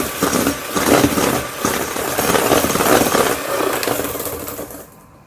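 Cinnamon chocolate chip bread batter being mixed with dry ingredients, a steady, fairly loud churning whir with a pulsing rhythm that runs for several seconds and then fades out at the end.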